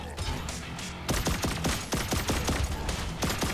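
Turret gunfire erupts in the cyberpunk shooter game Turbo Overkill, rapid loud bursts of shots cracking in quick succession, preceded by a second of muffled action.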